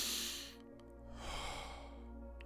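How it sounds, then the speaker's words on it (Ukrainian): Deep Wim Hof method breathing during a guided session: one full, close, airy exhale that fades, then a noisy inhale, all alone without speech. "Повний вдих, видих."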